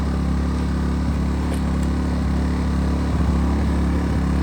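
An AIVOLT 1600W ultralight portable generator engine runs at a steady, loud hum with an even mechanical drone throughout, no voices over it.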